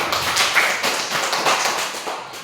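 Students in a classroom clap their hands together in a burst of loud, dense, overlapping claps that continue steadily throughout, with no talking over them.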